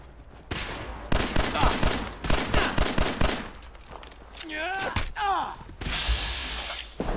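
Gunfire in Fallout 4: bursts of rapid automatic shots fill the first seconds, followed by a few single loud reports and impacts, with whooshing effects and a player talking over parts of it.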